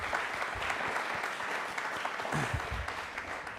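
A studio audience on a Republic Day special quiz show applauds in a steady, even burst of clapping, close and sustained throughout, with almost no voices.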